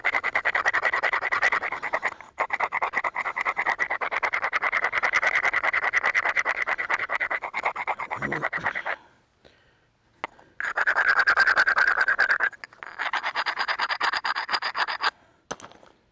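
A hammer stone grinds the platform edge of a flint piece outdoors during flintknapping, producing close, steady scraping and rasping strokes in long bursts separated by brief pauses.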